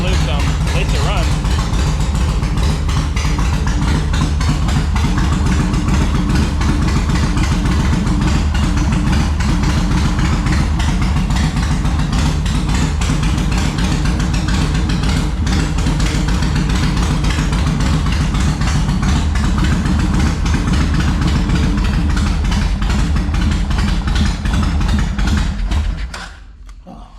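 A 2004 Yamaha Road Star motorcycle engine idles steadily and loud, a continuous low throbbing rumble that carries on without a break for nearly half a minute before cutting off at the end.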